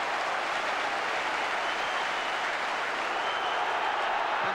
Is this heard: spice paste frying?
no